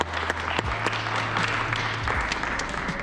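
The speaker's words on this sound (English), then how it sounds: "You actually clap louder for the people who win the round." An audience at a championship competition claps for the round winners, a steady wash of applause with a low hum underneath, lasting the full stretch.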